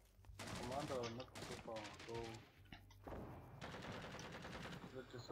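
Rifle and automatic gunfire in the Vietnam War shooter Rising Storm 2: Vietnam, rattling in dense bursts with short gaps, mixed with battlefield noise and voices talking over it.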